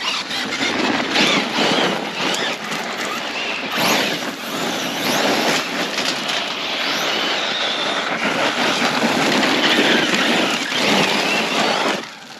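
An Arrma Fireteam RC truck with punch control turned up drives hard outdoors, giving a steady loud high-pitched motor whine and squeal with scrabbling, rushing noise that lasts about twelve seconds.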